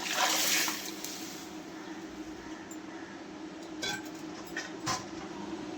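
Cooked tomato liquid is poured into a pot of rasam, giving a soft, continuous splashing trickle with a few faint clinks of a vessel.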